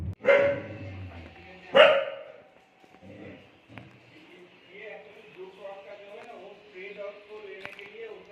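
A dog barks twice, loud and close, on a road trip from Vellore to Delhi, followed by quieter ambient noise and faint voices in the background.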